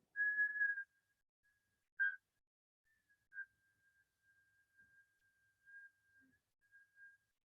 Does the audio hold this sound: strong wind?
no